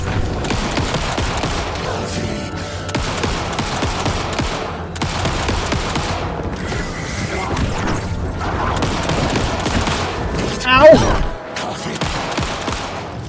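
Gunfire in the game Alan Wake 2, Night Springs DLC: dense, continuous rapid shooting and crashing impacts with a louder boom near the end, a busy wall of noise under occasional voices.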